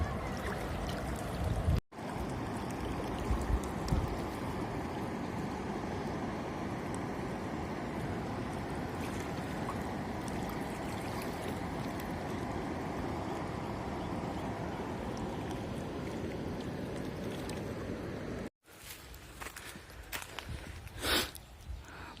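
A stream babbles over rocks along the Narmada, a dense continuous rush heard close for most of the stretch, interrupted by two abrupt breaks, with a thinner, splashier trickle after the second.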